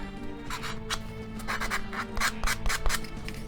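Close rubbing and light scraping over the wooden frames and stiffeners of the Hermione La Fayette model ship during prep, irregular short strokes that grow a little louder and denser toward the end, with no voices.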